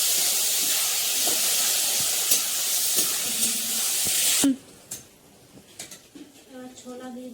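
Dried red chillies hit hot oil in a pan with a loud, steady hiss of sizzling that stops abruptly partway through, leaving quieter clinks and faint kitchen sounds.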